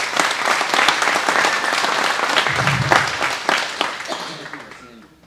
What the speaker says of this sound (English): Let's have a hand of applause for them.